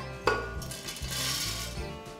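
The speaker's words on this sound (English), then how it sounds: "I'm gonna put about a cup of the oatmeal into the blender." Quaker Old Fashioned oats are poured into a blender jar, giving a soft dry rustle with a light clink at the start, close and quiet.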